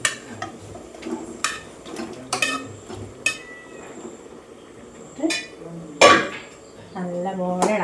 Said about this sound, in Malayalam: നല്ലപോലെ ഇളക്കിയെടുക്കാം.